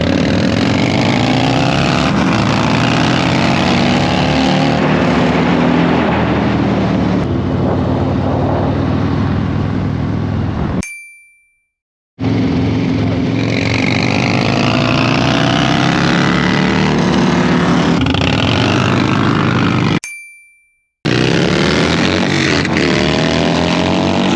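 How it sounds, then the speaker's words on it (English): A Harley-Davidson Street Glide motorcycle is ridden at speed. Its engine gives a loud, steady roar that rises and falls with throttle and gear changes, along with heavy wind rush, broken by two short silent gaps. "So I'm back on the street glide this time and we're going to see how I can perform on my bike versus Eric's bike."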